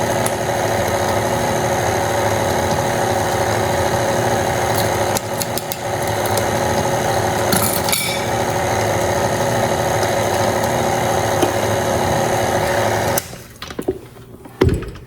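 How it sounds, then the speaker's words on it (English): A steady, loud electric mixer whirs through lemon pound cake batter, running continuously at an even pitch before cutting out near the end with a few faint clinks. "I'm going to scrape the sides and then let it mix up for about a minute."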